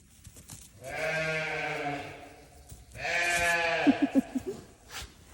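Two long, wavering sheep bleats, close by, the second ending in a quick stuttering series of short bleats, with faint rustling in the gaps.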